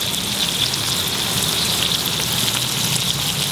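Mutton koftas frying in a pan of oil: a steady, dense, hissing sizzle that stays even and close throughout, with no voices.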